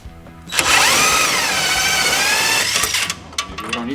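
An impact wrench buzzes loudly and close for about two seconds while working a suspension bolt out of a 1992 Mazda Miata, with a rising whine that stops and leaves light clinks of metal.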